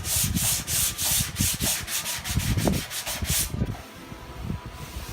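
A sanding block is guided lightly back and forth across an auto body panel, producing a continuous run of rhythmic, close abrasive rubbing strokes with no talking.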